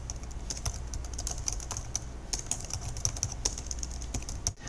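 A computer keyboard being typed on to enter a place marker title, a close, steady flurry of crisp key clicks with no voices.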